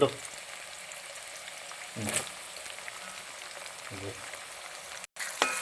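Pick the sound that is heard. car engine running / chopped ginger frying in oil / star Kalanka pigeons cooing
chopped ginger frying in oil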